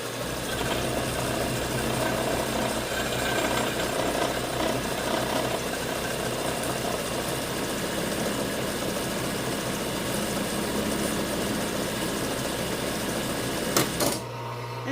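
A Singer 291u1 industrial sewing machine winds a bobbin with a steady, continuous motor whir and hum that runs close and even for about fourteen seconds, then stops abruptly near the end.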